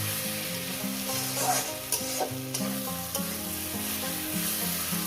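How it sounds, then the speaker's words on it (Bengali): Water spinach greens fry in a pan for a Bengali fish bhorta, sizzling steadily up close while being stirred, with occasional scraping clicks over a constant crackle. "মিনিমাম শাকটাকে আমি পাঁচ ছ মিনিট ধরে ভেজে নেব"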